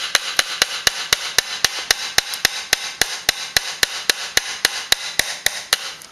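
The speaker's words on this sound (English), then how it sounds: "hammer that in like so" Rapid, evenly spaced hammer strikes ring out on a wooden beehive frame being assembled, about four per second, sharp and close with no talking.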